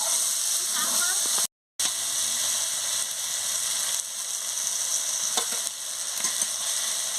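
Potato, eggplant and onion curry frying in a pan as it is stirred right after uncovering, continuous sizzling hiss with scraping spatula strokes and light clicks, a short gap of silence near the start.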